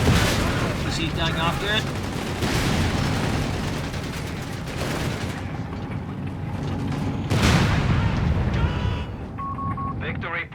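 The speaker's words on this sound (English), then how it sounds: "Another great shot there from EC at the Panther" Company of Heroes 3 battle with a tank gun firing on a Panther, heavy booms and gunfire crackle layered under a commentator talking over the action.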